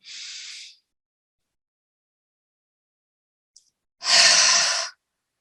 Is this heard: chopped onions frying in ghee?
no